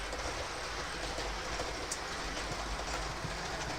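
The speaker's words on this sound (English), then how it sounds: "I've just had 3 locos running around" Three model train locomotives run around a large track loop, making a steady, close rumbling hum with faint clicking wheels throughout and no talking.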